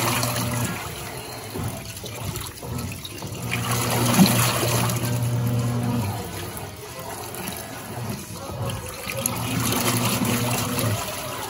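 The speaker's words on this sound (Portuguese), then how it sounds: "O enxágue, ela faz agitação delicada," A Brastemp washing machine on its rinse cycle with delicate agitation, a steady wash of sloshing, trickling water that swells and eases in slow surges, fairly close and with no talking.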